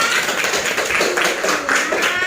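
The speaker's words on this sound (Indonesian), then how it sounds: "tepuk tangan buat kalian semua" A class of schoolchildren clapping their hands together indoors, a quick, fairly close patter of claps running steadily throughout with faint voices mixed in.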